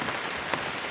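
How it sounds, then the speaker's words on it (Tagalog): Steady rain pours down onto a surface, a dense, close hiss of drops that continues evenly throughout. "Naulan na kami dito par."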